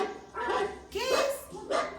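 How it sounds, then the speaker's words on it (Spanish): A dog barks in three separate bursts, close and fairly loud, as one animal in a children's animal sound quiz. "¿Un perro? Muy bien."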